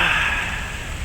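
Steady rain hisses continuously, a soft broadband wash with no voices and no pauses.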